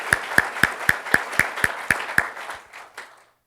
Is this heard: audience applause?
yes